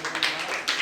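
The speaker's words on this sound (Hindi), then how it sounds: "भाई एक बार ताली बजा दीजिए।" A group of children clap together in a village school classroom of Parsahar Purvi gram panchayat, a short burst of hand claps with two louder flurries, heard fairly close.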